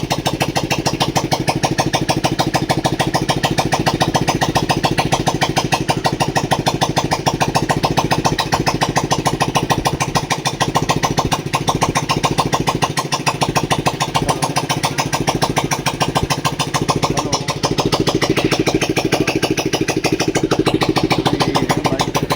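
A TV Star City Plus motorcycle engine, freshly given a half-engine rebuild with new clutch plates and timing chain, runs steadily at close range with an even, rapid exhaust putter and no voices.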